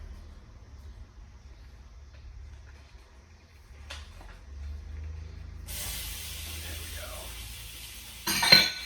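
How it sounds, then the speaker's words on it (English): One pound of raw sausage dropped into a pan warmed over medium heat, a loud, steady sizzle starting partway through and holding, with a brief utensil clatter near the end. "Let's get that 1 pound of sausage in there."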